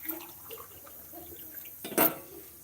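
A short gush of cold water splashes near the end, loud and close, after a quiet stretch with only faint background noise.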